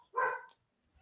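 A dog gives a single short, sharp bark, fairly close and moderately loud, then silence, heard at night in a cemetery road setting.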